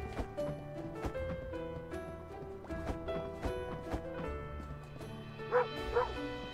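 Dog in the video game Moonlighter giving short yips and bow-wow barks over steady game music, with a brief cluster of louder barks near the end.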